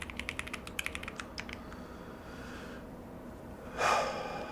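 Quick typing on a computer keyboard for TypeRacer, a burst of light, rapid key clicks that fades out, followed by a soft breathy rustle near the end.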